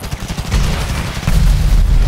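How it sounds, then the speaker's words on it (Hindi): A huge explosion goes off in the GTA V video game during a helicopter fight, a loud deep blast followed by sustained rumbling booms and crackling debris, with a second heavy surge partway through. "ओह भाई क्या खतरनाक वाला धमाका हुआ है यहाँ पर"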